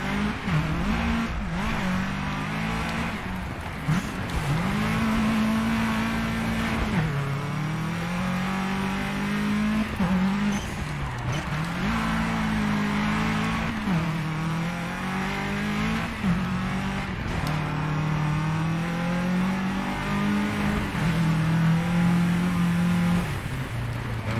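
Race cars in a three-lap circuit race in the DiRT 2 video game, a continuous loud engine drone revving up and down through repeated gear shifts, with other cars and occasional tire noise, no speech.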